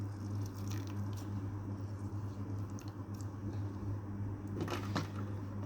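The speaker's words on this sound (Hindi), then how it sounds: "अब हम इसमें शामिल करेंगे हाफ लेमन का जूस" Half a lemon is squeezed by hand into a skin-brightening face pack, producing soft, wet squishing and squelching over a low steady background hum, with a few sharper drips and crackles near the end.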